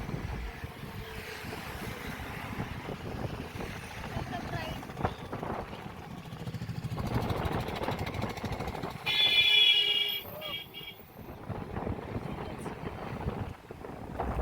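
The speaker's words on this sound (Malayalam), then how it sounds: "ഇവിടെ നല്ല കാറ്റ് വീശുന്നുണ്ട്" Gusty wind on a bridge rumbles against the microphone under a person talking, swelling louder for a moment near the end before easing.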